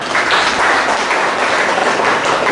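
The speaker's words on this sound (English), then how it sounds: "Let's give a warm welcome to our chief guest of the day with a clap." An audience gathered for a literary morning at a national workshop on English language and literature claps to welcome the chief guest, a dense, steady burst of applause that stays loud and even throughout.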